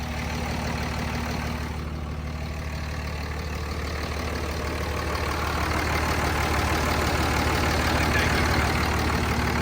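A Cummins diesel engine in a third-generation truck idles steadily and close by, a continuous low rumble with a faint rattle from the exhaust running underneath it for the whole stretch.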